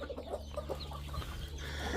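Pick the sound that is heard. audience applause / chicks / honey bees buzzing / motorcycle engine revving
chicks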